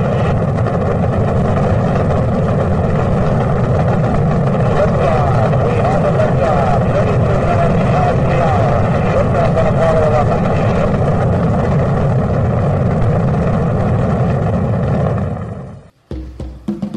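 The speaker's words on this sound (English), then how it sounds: "5, 4, 3, 2, 1, 0. All engines running." Rocket engines roar at launch in a steady, loud, broad rumble that holds unbroken for about fifteen seconds, then cuts off abruptly into near silence with a brief fragment after it.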